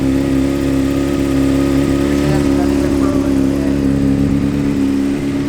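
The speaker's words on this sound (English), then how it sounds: "Runs good though. It's a good running bike" A Honda CBR600 sport motorcycle engine runs steadily nearby with a dense, even exhaust drone and a slight rev rise midway, continuous and loud.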